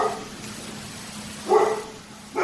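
A guard dog at home gives two short barks from across a quiet room, spaced about a second apart.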